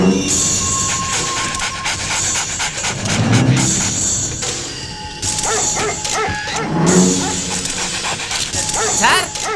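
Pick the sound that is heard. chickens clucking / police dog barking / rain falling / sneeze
police dog barking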